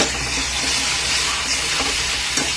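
Tomato sauce hits buttered garlic in a hot pan, producing a loud, dense, continuous sizzle with stirring, close and steady throughout.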